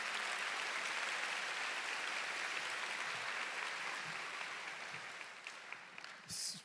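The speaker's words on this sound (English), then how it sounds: "Would everyone give a big round of applause for our counseling department here," Steady, fairly distant crowd applause for the counseling department fills the Lodi High School 2023 graduation, a broad even wash of clapping that gradually softens toward the end.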